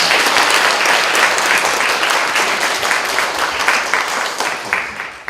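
A church congregation gives the elders a dense, sustained round of applause at a retirement service, many hands clapping steadily and loudly throughout.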